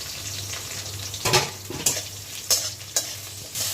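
Sliced onion hits hot oil already tempered with dried red chilies and black cumin, giving a steady low sizzle broken by several sharp scrapes and clatters of a spatula stirring in the pan.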